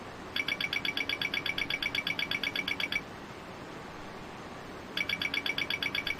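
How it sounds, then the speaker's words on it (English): Cockpit warning bell test aboard a United Boeing 737-900ER, a rapid repeating electronic ringing that runs for about three seconds, pauses for two, then starts again, set over a steady cabin hum. "So these are going to be kind of slightly unsettling warning bell sounds that you're going to hear."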